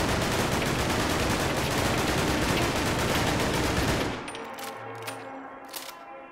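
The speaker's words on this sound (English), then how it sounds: "the Crude Blowback's fire rate made the recoil easy to control" Rapid automatic fire from the Crude Blowback rifle in Fallout 4, a loud dense burst lasting about four seconds before cutting off to a quieter ringing tail.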